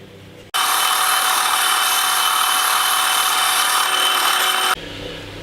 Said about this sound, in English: I'm just going to use a rasp file, and I'm just going to place it up against the column of the pillar drill, and I'm just going to rock it up and down